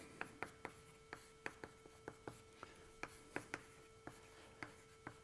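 Chalk or marker writing on a lecture hall board gives a series of short, sharp taps and strokes at an uneven pace, faint and slightly distant, with a quiet room hum behind.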